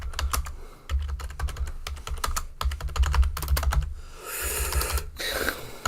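Typing on a computer keyboard, rapid bursts of clicking keystrokes with short pauses between runs, close and fairly quiet, with no voices.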